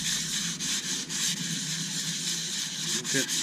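Coarse, gritty sandpaper rubs against a turned beech wood bowl in repeated back-and-forth strokes. The rasping is close and moderately loud, with a rhythmic swell on each pass.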